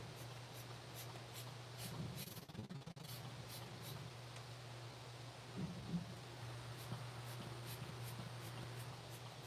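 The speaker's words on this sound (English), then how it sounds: "Okay, and once again, spray." Edible art paint sprayed onto cake popsicles, a steady soft hiss of fine aerosol spray running throughout with a low hum underneath and a short rustle partway.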